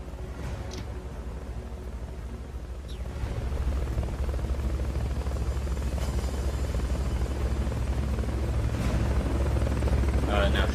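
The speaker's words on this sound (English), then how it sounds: "Destroying the chopper is much slower." A helicopter from the video game Metal Gear Solid Peace Walker drones steadily with a loud, continuous rotor buzz that grows stronger partway through and holds to the end, with no talking.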